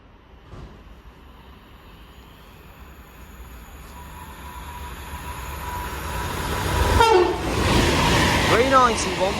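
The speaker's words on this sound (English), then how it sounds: "Pendolino about to pass through" A Pendolino train running from Manchester Piccadilly to London Euston passes through a station, starting as a faint distant rumble and swelling into a loud close roar with squealing wheels and a horn-like tone near the end.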